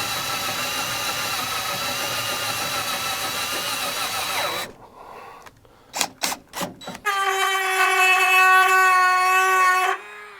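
A power drill whines steadily at high speed boring holes in a 2022 Ram Power Wagon for bed rack brackets, stops, gives several short bursts, then runs again in one long sustained spin before cutting off.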